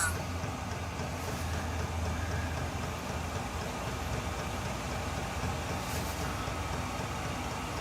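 Diesel parking heater in a shuttle bus RV conversion running at a high setting, a loud, steady rumbling roar of blowing hot air that continues unchanged throughout.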